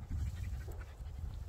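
Tired dogs panting steadily after a long walk over mountain trails, a continuous breathy rhythm close by with no talking.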